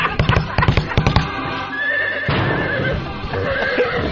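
A voice imitates a horse neighing on a talk radio show, a loud, close, warbling whinny after a rapid burst of clopping-like sounds.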